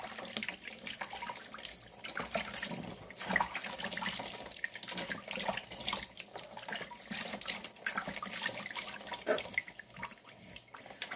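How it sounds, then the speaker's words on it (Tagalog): Lukewarm tap water running into a sink for rinsing, a continuous fairly quiet splashing stream with small fluctuations and drips, no voices. "So ngayon, banlawan natin. Same thing, lukewarm water."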